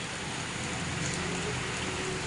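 Steady rain falls in a constant, even hiss with no breaks or distinct drops, fairly loud and uninterrupted, with no voices.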